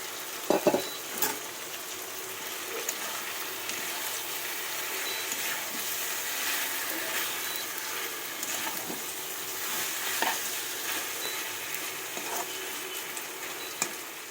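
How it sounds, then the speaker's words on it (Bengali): Cauliflower and potatoes frying in oil with turmeric and spices, a steady moderate sizzle with a few clatters of stirring near the start and scattered scrapes, no talking. "এবার আমি এইগুলো সবজিগুলো দিয়ে দেবো ফুলকপি আলু"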